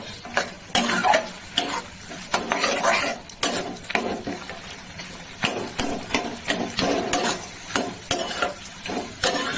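Semolina pulao fries in a pan over a high gas flame, with loud, close sizzling and repeated clanks and scrapes as a metal utensil stirs against the pan in an irregular rhythm. There is no clear speech.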